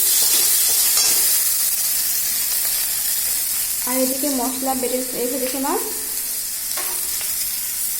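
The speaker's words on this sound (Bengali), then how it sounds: "এরপর আলুও দিয়ে দেবো এগুলো হালকা ভেজে নেবো একটু আলুটাকে" Potatoes fry in a pan with a constant sizzle, scraped and stirred now and then, while someone speaks briefly over the cooking.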